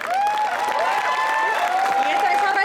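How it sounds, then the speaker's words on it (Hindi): An audience applauds at a poetry recital at a kavi sammelan held at IIT Jodhpur, steady clapping that is overlaid by a prominent tonal ringing, likely microphone feedback. "जोर से तालियों से इनका स्वागत करें। एक बार फिर से बजा दीजिए।"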